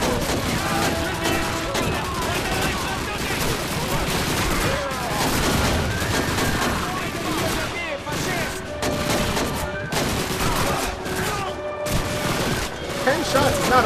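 Dense gunfire in the World War II shooter Call of Duty 2 keeps up loud, near-constant rifle and machine-gun volleys, with overlapping bursts and crackling shots running the whole way through.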